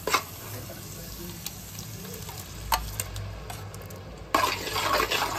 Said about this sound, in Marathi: आता हळद घातली आहे यात आणि आता ती सगळं ते छान फ्राय करून घेते